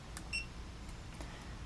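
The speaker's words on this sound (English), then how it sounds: "we're going to hit the set button again, hold it till it beeps" A TST tire pressure monitor for an RV chirps once with a short electronic beep as its set button is held, with faint room noise around it.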